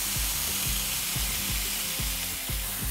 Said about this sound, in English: we're gonna hear it sear